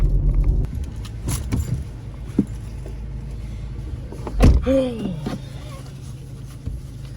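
Someone climbing into a truck: keys jangle, a door thumps and clicks, and other brief handling knocks follow over a low idling rumble, with a short whirring squeal mid-way.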